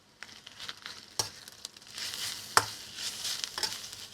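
Boiled bottle gourd sautéed in ghee in a pan, giving a soft sizzle with scraping stir strokes and a few sharper knocks, close and steady with no talk.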